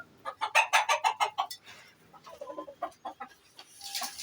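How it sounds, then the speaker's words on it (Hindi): Chickens clucking close by, a rapid series of sharp clucks followed by softer, scattered clucks from the flock, which includes a rooster. "ये हैं जी हमारी मुर्गियाँ।"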